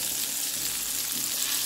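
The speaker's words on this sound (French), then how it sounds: "je vais venir frire un peu et dorer mes boulettes de viande hachée" Minced chicken meatballs fry in butter and oil, giving a steady, close crackling sizzle that holds evenly throughout with no voices.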